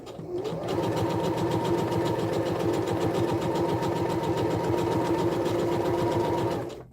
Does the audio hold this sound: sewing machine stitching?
yes